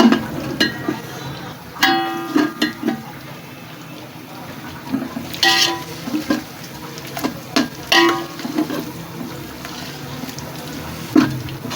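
Whole spices, black and green cardamom, cumin seeds, cloves, peppercorns and bay leaves, fry in masala for chicken pulao, a soft sizzle under repeated sharp scrapes and clinks of a spoon stirring the pan.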